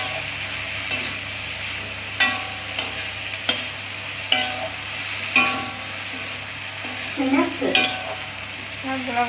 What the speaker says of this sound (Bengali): শাকগুলো ভালো করে ভাজবো,